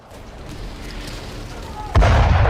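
A sudden loud boom from an explosion at a drone facility hits near the end, following a steady rumbling background, and the blast's roar carries on afterward.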